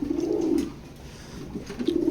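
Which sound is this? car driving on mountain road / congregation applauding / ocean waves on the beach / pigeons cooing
pigeons cooing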